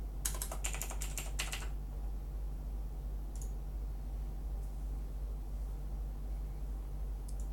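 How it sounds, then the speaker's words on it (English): Password being typed on a computer keyboard on a Kali Linux machine: a quick burst of close, sharp key clicks at the start, then a long hissy low hum with one or two isolated taps later. "I write the password I just found."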